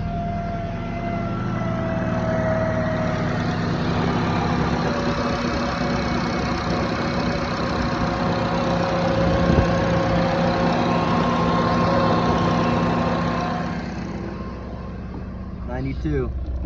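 A freshly rebuilt Honda K20Z3 engine in a 2009 Civic Si FG2 idles steadily with a low droning hum and a faint whine, while voices talk quietly nearby over it.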